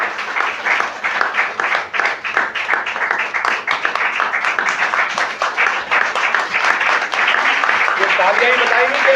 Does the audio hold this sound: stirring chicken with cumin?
no